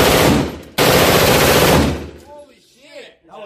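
A fully automatic firearm at an indoor gun range fires two long, loud bursts of rapid gunfire with a brief break between them, followed by ringing decay and excited voices talking as it stops.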